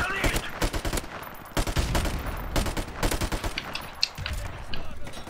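Rapid bursts of MP44 rifle fire in a Call of Duty first-person shooter, sharp repeated cracks spraying in uneven clusters with brief gaps between bursts, loud and close.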